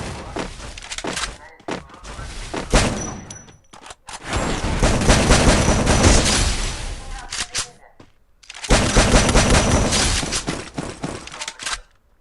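Gunfire bursts from the Free Fire battle royale game rattle in loud clustered volleys with brief gaps, while a player talks over much of the action.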